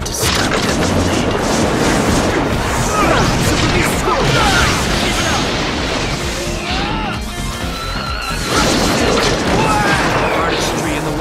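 Explosions and crashing impacts from the fighting game Naruto: Ultimate Ninja Storm 3 boom in dense, loud succession, layered with battle effects and voices talking throughout.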